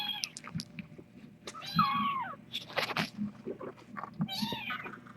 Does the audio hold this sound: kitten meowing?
yes